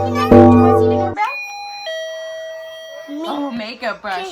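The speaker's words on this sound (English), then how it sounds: "Do you want to see the doorbell?" A toy doorbell from a children's memory game rings a clear ding-dong chime, sustained for about two seconds, with people talking immediately before and after it.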